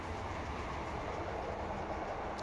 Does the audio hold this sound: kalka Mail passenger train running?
yes